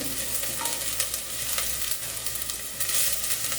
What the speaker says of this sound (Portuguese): Tá fritando a cebola.